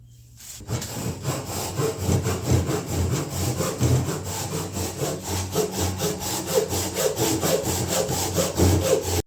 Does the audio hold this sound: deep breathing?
no